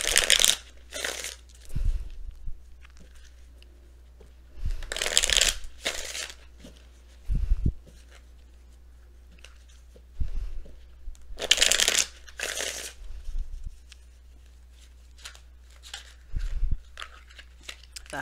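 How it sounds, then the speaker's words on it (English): Tarot cards shuffled in several separate bursts of riffling, crisp and close, with quiet pauses and low thumps between each round; no voices. "That shuffle was bad. Let me try again."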